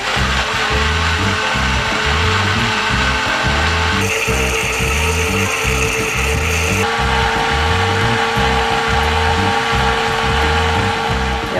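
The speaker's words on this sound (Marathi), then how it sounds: "आपण आता झाकण लावू व्यवस्थित आणि हे मिक्सर फिरून घेऊ" A kitchen mixer grinder blends a raw mango mixture for panha, its motor whirring loud and steady throughout, with the pitch and texture of the grinding shifting briefly in the middle.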